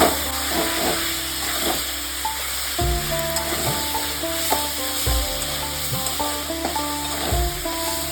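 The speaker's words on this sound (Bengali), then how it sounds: "দেখুন মশলাটা খুব ভালোভাবে সুন্দর করে ভাজা হয়ে গেছে" Spice paste frying in oil in a pan with drumstick flowers, a constant hiss and crackle up close, punctuated by a few dull knocks of a spoon against the pan.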